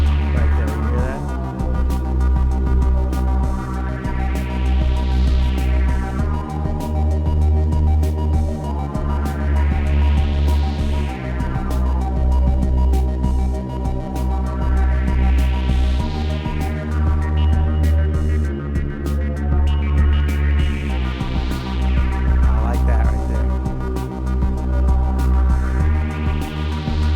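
Modular synthesizer run through a low-pass filter and reverb makes a loud, steady droning tone whose filter sweeps rise and fall in repeating arcs about every five seconds over a throbbing bass pulse.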